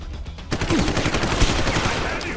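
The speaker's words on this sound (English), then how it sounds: "he's got a heavy gun" Heavy gunfire from an enemy's large weapon in the video game Deus Ex: Human Revolution, a loud burst of rapid shots cutting in sharply and continuing as sustained, dense fire.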